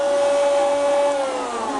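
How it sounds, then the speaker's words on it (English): A CNC router spindle on a converted Creality Ender 2 whines loudly and steadily, a high tonal motor drone like a vacuum that starts to slow near the end. "Once the gantry stops moving, I'll go ahead and kill the router."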